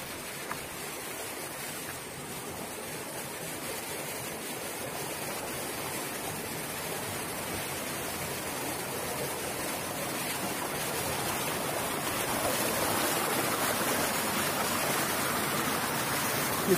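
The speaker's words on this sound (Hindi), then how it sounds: "ये पानी आप देख सकते हैं" A jungle stream flows in a steady, broadband rushing wash of water, continuous and fairly close for the whole stretch, growing slightly louder toward the end, with no voices heard.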